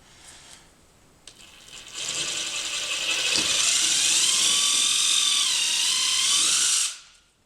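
A power drill runs with a sustained high whine for about five seconds, grinding steadily through the material as a hole is bored, close and loud, then spins down abruptly.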